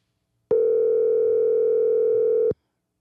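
A telephone ringback tone plays on an outgoing call, one steady, loud, unbroken tone lasting about two seconds that starts and stops abruptly, with no talk.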